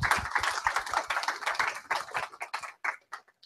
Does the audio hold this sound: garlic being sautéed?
no